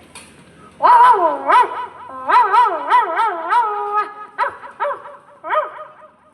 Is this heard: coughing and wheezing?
no